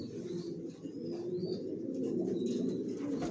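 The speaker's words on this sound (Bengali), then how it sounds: "আমার লফটে সব একই লাইনের কবুতর, জনসনের কবুতর পালি, সব লংয়ের।" Janssen line racing pigeons in a loft give soft, repeated low cooing that overlaps in a steady murmur, with a few faint higher chirps above it and no talking.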